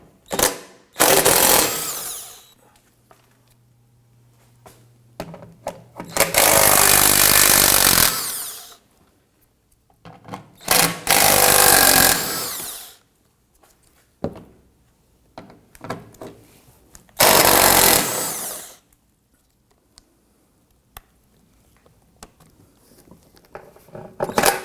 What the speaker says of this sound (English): We're going to use our 10mm socket and impact gun to